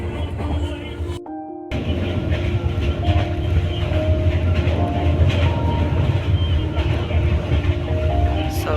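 A passenger train rumbles steadily along the rails, a continuous close low roar with faint rhythmic clatter, briefly cut out near the start.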